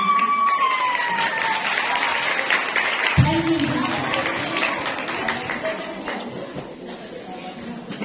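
A crowd at a parish Women's Day event applauds with a steady, dense wash of clapping, while a voice speaks over it at the start and a short tone sounds partway through.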